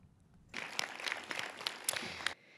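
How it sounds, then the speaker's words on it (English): Round of applause from guests at a Lake Area Chamber of Commerce fall awards dinner, a steady burst of many hands clapping for about two seconds at moderate distance, then cutting off sharply. "Would you please join me in a round of applause?"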